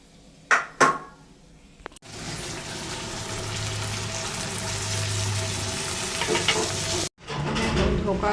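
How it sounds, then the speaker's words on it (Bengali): Diced potatoes fry in a hot pan with a loud, continuous hiss and crackle. It is preceded by a couple of clattering knocks and briefly cuts out before resuming at full strength, with no voices. "আর ডুমো করে রাখা আলুগুলো ভেজে নেবো আগে"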